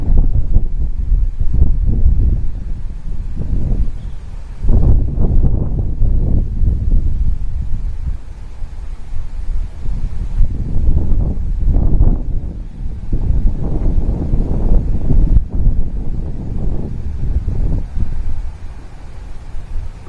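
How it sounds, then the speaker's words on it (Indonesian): Strong wind buffeting an unshielded microphone during an eruption of Mount Semeru, heavy low rumbling gusts that surge and ease across the clip, loud and close with no speech. "Iya, anginnya kencang suaranya itu."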